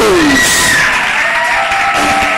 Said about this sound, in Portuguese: Uma salva de palmas aí para os nossos convidados.